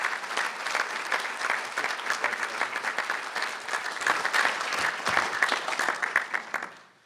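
At a high school athletic hall of fame ceremony, an indoor audience gives a hall of fame inductee sustained, dense applause that swells slightly, then dies away at the end.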